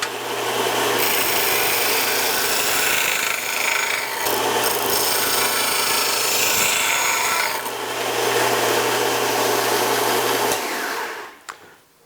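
A disc and belt sander runs steadily while a wooden piece is pressed against it and rounded, giving a loud abrasive rasp over the motor hum, with the grinding easing at moments before the machine winds down at the end.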